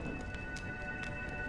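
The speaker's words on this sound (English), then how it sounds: "When will this rain ever stop?" Rain falls steadily in a video game scene, a faint soft hiss with scattered droplet taps over a quiet steady backdrop.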